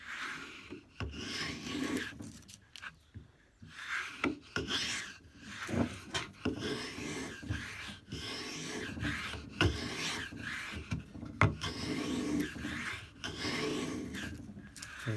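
A Stanley 60 1/2 block plane taking thin shavings off wood, close and repeated rasping strokes in an uneven rhythm with brief pauses between passes.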